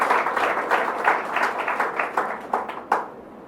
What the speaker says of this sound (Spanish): Sí, un aplauso, Señor.